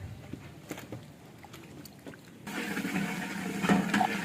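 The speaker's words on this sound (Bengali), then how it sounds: "আরও একটু পানি দিয়ে দেওয়া হচ্ছে" Water poured into a pot of cooking masala for a large batch of chicken roast, a steady splashing pour that swells from the midpoint and grows louder toward the end, close by with no talking.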